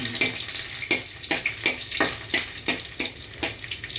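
Garlic frying in a pan for special noodles, a close sizzling hiss punctuated by regular sharp clinks of a utensil scraping and stirring, repeating roughly every half second.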